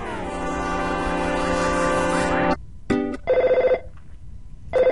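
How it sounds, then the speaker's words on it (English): A telephone rings in the Earthbound video game, a long electronic ringing burst that stops abruptly, followed by a few short chiming game tones. "Phone call interruption."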